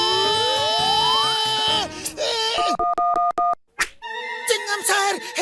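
Pulsed dual-tone keypad beeps from a public telephone being dialed in a Motu Patlu cartoon, a quick run of short regular tones after a stretch of cartoon music and effects.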